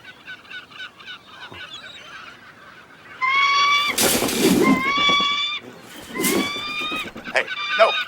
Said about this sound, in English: Them seagulls sure ain't acting normal.